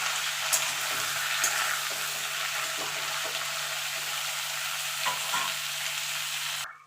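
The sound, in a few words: frying potato, papaya and green banana in a pan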